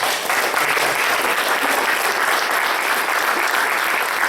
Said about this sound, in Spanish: Vamos a dar un fuerte aplauso a nuestro Dios.